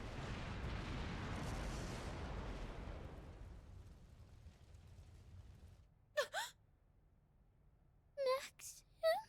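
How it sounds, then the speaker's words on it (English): A big explosion in Trails through Daybreak 2, a broad loud rumbling boom that decays over several seconds, followed by quiet and short voiced gasps. "There's the explosion."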